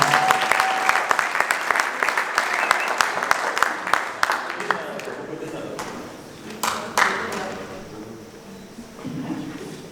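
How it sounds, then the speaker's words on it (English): An audience at a squash championships opening ceremony applauds to welcome the federation president, with dense clapping that thins out toward the end as voices and crowd murmur take over. "Let's give him a big round of applause."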